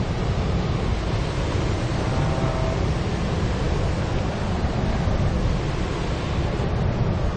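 The Mahaweli River flows past a nature resort near Gampola with a constant, full rushing roar. The broad, steady water noise is close and unbroken, with no voices over it.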